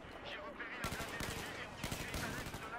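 Gunfire in the Battlefield 4 video game: a dense run of automatic shots, loud and close, continuous across the moment with brief pauses between bursts.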